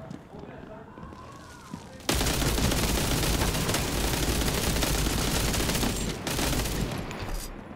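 Heavy automatic gunfire in the World War Heroes shooter game, a sustained loud barrage of rapid shots that erupts suddenly after a quieter opening and continues almost unbroken to the end.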